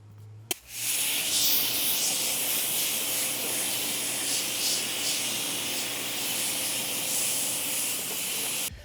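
Wall-mounted pressure washer spraying: a loud, steady, broad hiss that starts abruptly after a brief click and runs unbroken, with no voices over it.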